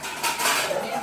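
Washing dishes, pots and pans at home: a short burst of clattering metal utensils and running water, close and fairly loud.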